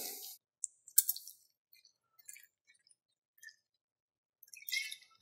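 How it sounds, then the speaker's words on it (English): Gin is poured into a mixing glass full of ice for a Gin Daisy cocktail, giving sparse, bright glassy clinks and faint trickles, quiet and close, separated by silence. "I have in front of me my mixing glass full of ice. We're going to start with gin."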